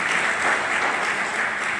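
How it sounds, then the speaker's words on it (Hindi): An audience at a memorial ceremony held in a Bal Bhavan children's hall claps loudly and steadily for the children, a dense, continuous applause that fills the room. "बच्चों के लिए कोई जोरदार ताली"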